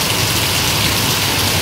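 Heavy rain pours down in Degloor, a loud, dense, unbroken hiss with a low rumble underneath, no voices heard.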